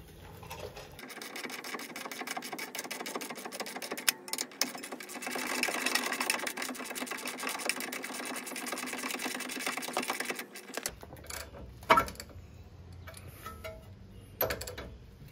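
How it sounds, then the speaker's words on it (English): A wrench ratchets continuously as bolts on a Baer bumpsteer kit are tightened on a 1999–2004 Mustang, a dense rapid clicking run lasting several seconds, then stopping, followed by a few isolated metallic clicks and knocks. "tighten this all the way, tighten my top all the way, and also tighten back here that original bolt, that locking bolt back there"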